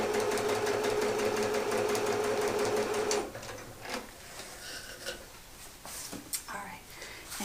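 Close up, a sewing machine stitches fabric rows onto a quilt panel with a steady, fast mechanical whir for about three seconds, then stops. Quieter handling noises follow.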